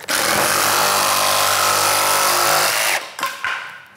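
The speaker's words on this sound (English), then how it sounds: "Cuts good with a jigsaw." Jigsaw cutting through vinyl plank flooring with a worn blade, a loud steady buzzing rasp for about three seconds, then stopping with a few short, fading bursts.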